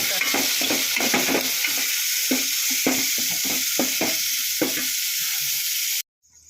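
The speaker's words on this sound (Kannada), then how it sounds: "ಈರುಳ್ಳಿ ಬೆಳ್ಳುಳ್ಳಿ ಎಲ್ಲನೂ ಹುರಿದ್ಬಿಟ್ಟು ಜೀರಿಗೆ ಎಲ್ಲ ಕರ್ಬೇವಿನ ಸೊಪ್ಪು ಎಲ್ಲ ಹುರಿದ್ಬಿಟ್ಟು" Onion, garlic, cumin and curry leaves fry in a pan with a steady, close sizzle broken by repeated stirring scrapes, stopping abruptly near the end.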